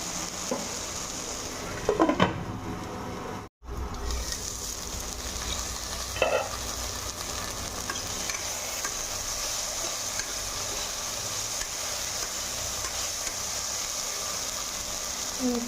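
Okra frying with a pinch of salt in a pan, a steady close sizzle throughout with a couple of brief stirring scrapes near the start and a short gap in the noise.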